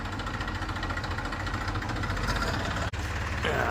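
A tractor engine idles inside a repair garage with a steady, rumbling low throb. It runs continuously, with one brief sharp dropout near the end.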